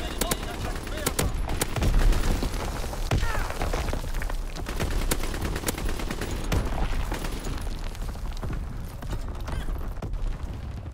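Mortar barrage fire in a video game, dense repeated thumps and cracks rolling on without pause, with a voice talking over the shelling throughout.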